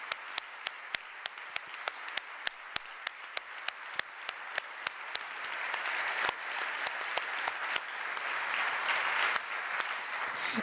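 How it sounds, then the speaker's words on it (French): A business forum audience applauds a speaker: sharp, evenly spaced claps from a few hands at first, then thickening into fuller, louder applause from the crowd that carries on to the end. "Liam Chenot, mesdames, messieurs, on l'applaudit encore bien fort."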